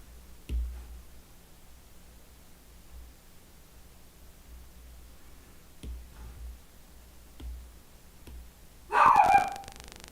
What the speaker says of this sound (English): obviously he barks a lot. He's that kind of a dog.